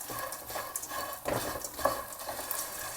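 Edible gum (gond) puffs up while it is roasted and stirred in a pan, a light crackling sizzle with repeated stirring scrapes and a few soft knocks against the pan, fairly quiet and close.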